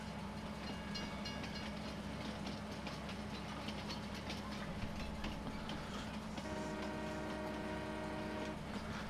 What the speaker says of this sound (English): Oh, yep, there is a horn.